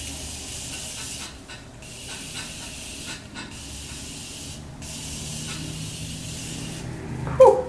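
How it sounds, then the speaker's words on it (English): Bursts of fine setting spray mist hiss close by as it is sprayed onto a face, several long sprays separated by brief pauses, with no talking. "then I spray my face with setting spray"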